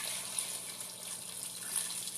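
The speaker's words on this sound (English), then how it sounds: "So I'm doing a total of about 6 cups of water to start." Water pours steadily into a soup pot holding potatoes, a constant close rushing splash with no voices.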